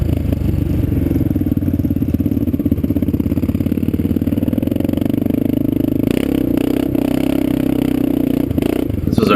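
A big Kawasaki KLR650 rides along with KTM dirt bikes, a loud, steady, thumping single-cylinder engine drone close by, followed by a few clattering bumps and shifts near the end.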